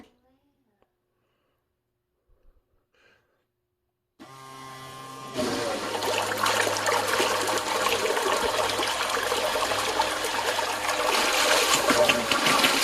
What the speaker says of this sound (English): As soon as the pump feels no more water, it will stop.